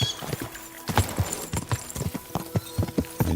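Horse hooves clip-clop at a steady riding pace in Kingdom Come: Deliverance II, close and crisp with no voices, a soft snort or whinny faintly underneath.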